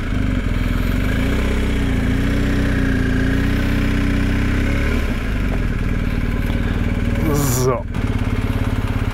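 A motorcycle engine idles steadily at close range throughout, touring in the Alps of Tirol and Salzburg, with someone talking over the low rumble.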